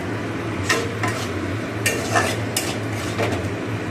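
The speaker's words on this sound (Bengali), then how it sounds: "এদিকে মশলাটা কষছি আলু দিয়ে" Spice masala with potatoes being fried and stirred in a pan for a cauliflower curry, with a low steady sizzle, a hum underneath, and several sharp utensil scrapes and clinks spread through.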